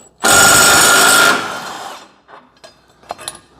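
An impact wrench fitted with a short 3/4 inch socket gives one loud, close burst of about a second as it zaps the bolt off a stand-on mower blade, followed by a fading whir and faint metallic clinks.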